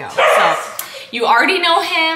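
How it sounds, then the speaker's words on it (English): A dog barks wildly and excitedly, loud and near, its harsh yelping barks overlapping with a person speaking. "that is my dog going psycho."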